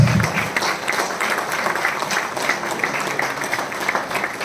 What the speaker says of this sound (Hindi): एक जोरदार ताली होनी चाहिए लीडर